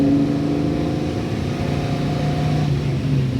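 A 1967 Ford Mustang fastback engine runs close and steady, a loud, continuous low rumble with a lumpy idle and no pause across the short stretch.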